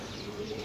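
A pigeon gives a brief soft coo close by, a short low murmur lasting under a second amid faint background noise.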